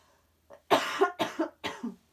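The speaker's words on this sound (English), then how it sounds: "These allergies are draining down my throat and making my throat tickle, and I have to cough." A short burst of harsh coughing, three or four hacking coughs in quick succession, close and fairly loud, with no talking.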